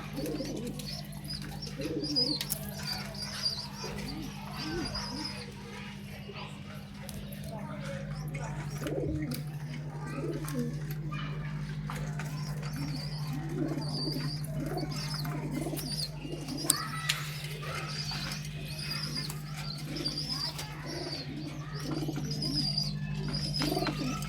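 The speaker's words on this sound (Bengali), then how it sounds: "এটা হলো আর্মি কবুতরের বাচ্চা" Army pigeons kept on a home balcony coo in soft, repeated low calls with occasional chirps, set against a steady electrical hum and faint background activity.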